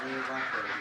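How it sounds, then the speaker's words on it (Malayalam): Goose chicks give a brief, close, high-pitched call, a single short peeping burst standing alone. "വാത്തയുടെ കുഞ്ഞുങ്ങൾ"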